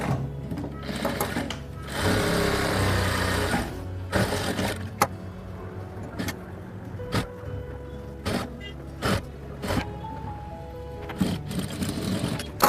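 A sewing machine stitches the side finishing seam of a katori blouse in bursts, its close, rapid motor whir starting and stopping, with short clicks and pauses between runs.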